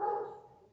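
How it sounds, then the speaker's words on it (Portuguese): Dogs barking, a short loud burst up close that trails off quickly, with no one talking over it. "vamos deixar os cachorros latirem mais um pouco"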